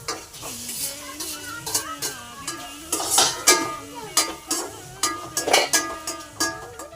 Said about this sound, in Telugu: వేసి ఒకసారి వేయించేస్తున్నాం